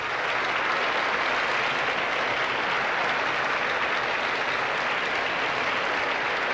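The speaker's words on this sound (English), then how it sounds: "I think your cheering section rivals Mexico's." An audience at the Miss Universe 1988 pageant applauds and cheers for Miss USA, producing a dense, continuous wash of clapping that holds steady at even loudness throughout.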